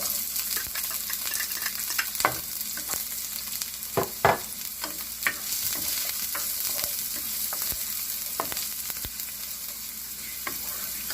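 Onion frying with browned garlic in a pan for a Filipino tortang giniling, a continuous sizzle broken by frequent sharp scraping clicks of a utensil stirring, close and moderately loud with no talk.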